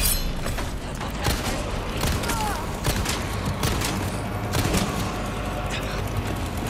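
A grenade blast in Resident Evil 4 goes off amid game gunfire and clanking effects, a dense, loud barrage of booms and impacts over several seconds.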